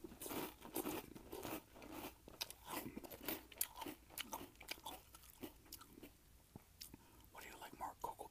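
Close crunching and chewing of French Toast Crunch cereal, irregular crisp bites and mouth sounds in quick succession, quiet and intimate, with soft whispering between bites.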